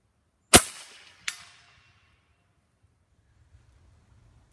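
A .30 caliber Wicked Air Rifles Flex PCP air rifle fires twice outdoors, each a sharp, loud crack about a second apart with a short trailing echo, followed by near silence.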